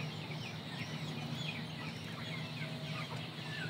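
Indio Gigante chickens cluck and chatter softly in a pen, with several birds calling over a steady background hum, somewhat distant.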